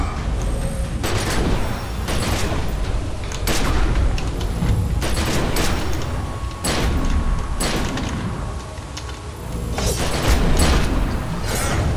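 Grenades explode in the video game The Secret World as a series of loud, broadband blasts every second or two, each sharp onset fading into a rumble, over dense continuous combat noise.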